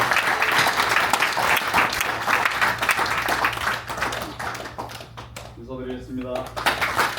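Applause from a Korean community gathering in Los Angeles welcomes a politician of the Liberty and Innovation Party, a dense, steady clapping from a crowd that thins out near the end as a voice begins speaking.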